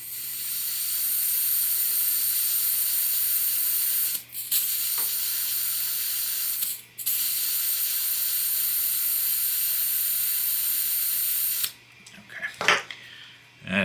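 Butane hissing steadily into a Lexivon micro torch during refilling, a close, bright continuous spray broken by two brief pauses and ending with clicks and handling noises.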